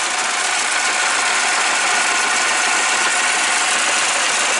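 A milling machine cuts an aluminum cooling block for a Flycolor 150A speed controller, a loud continuous steady mechanical whir and grind with no pauses.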